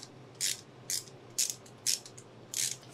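A ratchet clicks in five short, crisp bursts at a steady pace while an OEM ignition coil bracket comes off a car during a coil relocation job. Each burst is close and clear over a quiet background.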